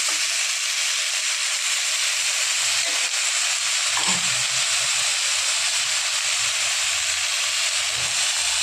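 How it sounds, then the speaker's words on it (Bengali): Salted, turmeric-coated brinjal fries with garlic in a pan for a fenugreek-greens dish, giving a steady loud sizzle and hiss with a few soft stirring knocks, with no speech. "এবার বেগুনটা রসুনের সাথে ভালো করে নাড়াচাড়া করে একটু হালকা ভেজে নেবে।"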